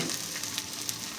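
Whole lota (Bombay duck) fish dropped into a pan of spice masala that is already sizzling, with no water added. A short, close, steady hiss of frying with a few small crackles and no voices.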